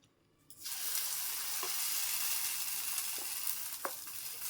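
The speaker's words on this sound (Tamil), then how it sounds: "பனியார சட்டி கால் காஞ்சிருச்சு எண்ணெய் விட்டுருக்கேன் நம்ம ஊற்றிக்கலாம்" Corn batter hits a hot, oiled paniyaram pan and breaks into a steady, bright sizzle that holds evenly, with a few faint clicks as it fries, close by and with no voices.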